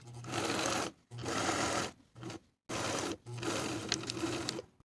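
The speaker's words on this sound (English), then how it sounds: "Top stitch along the top of the flap with a 1/4 inch seam allowance." A sewing machine top stitches along a pants pocket flap, running in four steady bursts of rapid mechanical whirring with short pauses between them, close and alone.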